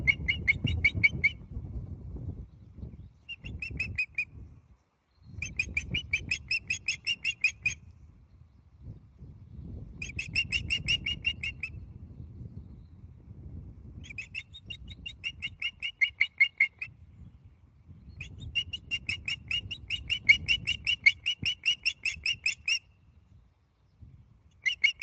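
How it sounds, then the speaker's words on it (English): Repeated bursts of shrill, rapid bird chirps from a bird begging for food, insistent and fairly close, alternating with short pauses over a low rumbling background. "you've got to hear the sounds the birds make"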